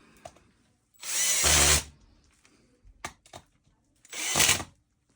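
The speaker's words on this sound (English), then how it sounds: "Now we're going to screw a Zerk fitting in there." A power drill whirs in two short bursts while driving a Zerk grease fitting into a crack in a basement wall, with faint clicks and handling noises in the gaps, close and loud.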